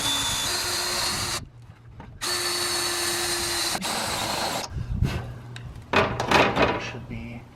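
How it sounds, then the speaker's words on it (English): A step bit drills up to a 9/16-inch hole in a van build, a loud close power-drill whine that stops and restarts in bursts, followed by rough scraping and clunks as the bit works through the metal. "I have to drill up to 9/16, which is 1 step above 1/2 inch."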